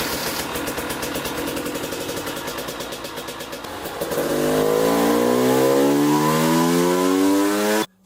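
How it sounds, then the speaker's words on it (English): KTM 300 EXC TPI two-stroke dirt bike fitted with a DEP exhaust, a loud, close engine buzzing at a steady rate before revving hard and climbing in pitch, then cutting off abruptly at the end. "Today we've spent a bit of time with the KTM 300 EXC TPI."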